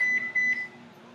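A mobile phone notification sounds as two short, clear electronic beeps in quick succession, close and fairly loud, followed by a quiet tail with no talking.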